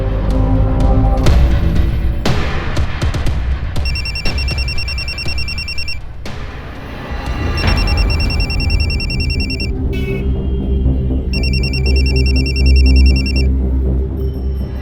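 An electronic phone ring repeats in three bursts of high, pulsing tones over a loud, busy background of music and bustle.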